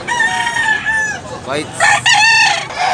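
Bullstag roosters for sale at a chicken market in Tabunok, Talisay, Cebu crow loudly and close by in overlapping, drawn-out calls with rising and falling tone, while someone speaks briefly in between.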